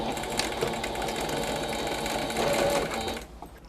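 A sewing machine runs steadily while stitching a cloud-shaped fabric cushion, its close, continuous motor whir holding level for about three seconds before stopping abruptly.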